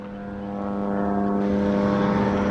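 A fighter plane flies overhead above a residential neighborhood, its engine drone rising steadily into a loud, sustained tonal roar as it approaches.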